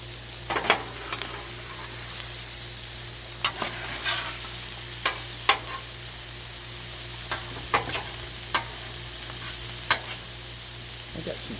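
A seafood boil sizzles on a griddle under a constant frying hiss and low hum, while a metal scraper makes about a dozen sharp, irregular scrapes and taps close by.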